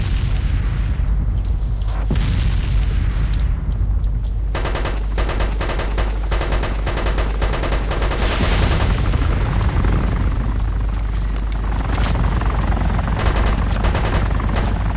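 Gunfire and explosions in the video game DayZ Epoch: loud, dense bursts of rapid automatic fire and heavy booms over a constant low rumble, with firing volleys clustering in the middle of the clip.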